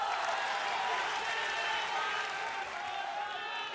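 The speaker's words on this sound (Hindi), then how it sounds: "तालियों के साथ स्वागत कीजिए।" Applause from a studio audience at a Bihar election debate welcoming speakers, a steady, even wash of many hands at moderate level that slowly eases off toward the end.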